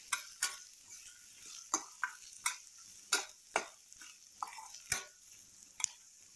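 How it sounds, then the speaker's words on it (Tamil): Onions and curry leaves sauté in a pan. A spoon stirs and scrapes in sharp, evenly spaced strokes, about a dozen of them, over a faint, quiet sizzle, with no voices. "வெங்காயம் வதங்கிட்டு இருக்கும் போதே கருவேப்பிலை சேர்த்துடலாம். சேர்த்துட்டு நல்லா வதக்கி விட்டுருங்க."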